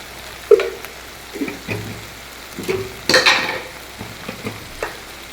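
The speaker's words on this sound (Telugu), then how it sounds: "ఇవన్నీ మనం మంచిగా కలుపుకుందాం" Potatoes and mixed vegetables stirred in a pan for veg dum biryani, with a spoon scraping and clinking against the metal in several separate strokes over a soft, steady sizzle.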